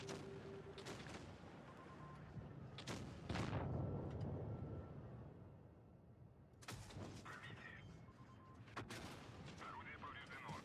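Tank cannons firing high-explosive shells in a tank battle video game; several loud, sharp shots crack out over a steady rumbling battlefield background, with a heavier blast near the middle.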